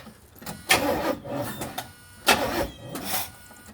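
A 1977 Chevrolet El Camino engine cranks in two drawn-out, whirring bursts with a short pause between, close by.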